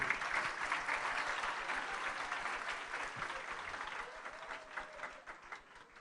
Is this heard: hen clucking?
no